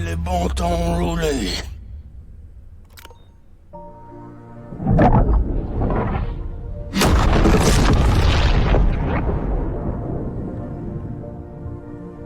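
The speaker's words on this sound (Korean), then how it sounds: "폭탄이다 폭탄" Bomb blasts in the shark game Maneater, a deep boom with rumbling tail followed by a second loud explosion, with background game sounds and occasional voice between.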